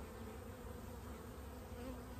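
Honey bees buzz steadily at a hive colony, a dense, continuous drone holding even loudness throughout with no voices.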